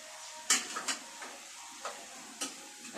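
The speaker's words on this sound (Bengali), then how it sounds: "তেলের মধ্যে দিয়ে ফেলাই বেগুন," Eggplant dropped into hot oil for a dry fish dish, giving a faint, steady sizzle broken by a few soft stirring knocks and clinks, with no one talking.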